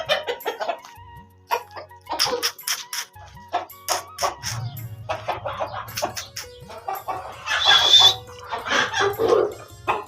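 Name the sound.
roosters and chickens clucking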